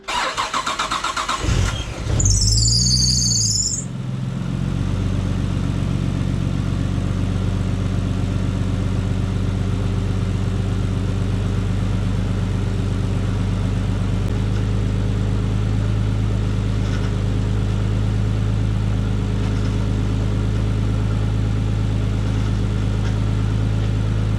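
A Nissan S14 with a swapped RB25DET engine cranks and catches, then settles into a loud, steady idle that runs unbroken as it warms up, close and with no talking.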